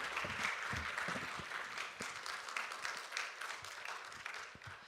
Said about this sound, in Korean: 목사님을 환영하는 마음으로 우리 큰 박수로